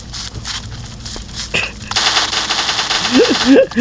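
Gunfire in the mobile shooter game Xshot during a spider level, heard as rapid machine-gun bursts with crackly game effects and a voice talking over it.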